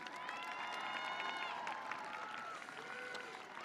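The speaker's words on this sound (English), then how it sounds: "Applause, please." Applause from a large audience at the 2022 ZBTHS high school graduation ceremony, a steady dense wash of clapping with faint whistles and cheers layered on top, continuing evenly throughout.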